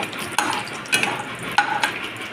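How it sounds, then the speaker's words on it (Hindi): Dry fruits roasting in desi ghee in a kadhai, with a soft steady sizzle broken by a few sharp metallic clinks and scrapes of a spoon stirring against the pan. "अब इसमें डालेंगे ये सारे ड्राई फ्रूट, इसको हल्के से रोस्ट कर लेंगे।"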